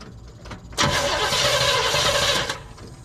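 A 1974 El Camino engine that sat for years cranks briefly, then fires and catches with a loud burst, running roughly for a couple of seconds before dropping back.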